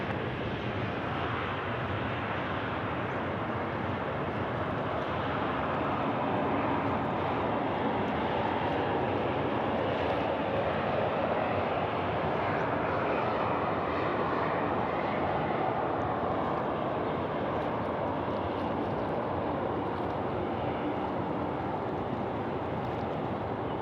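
A jet airliner with split scimitar winglets lands on runway 34 left at Sydney Airport, its engine roar a broad, steady rumble held for the whole stretch, distant but full, with some wind buffeting on the microphone.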